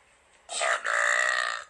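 A loud, drawn-out burp in two parts, a short first push that runs straight into a longer sustained belch, heard up close with no talking over it.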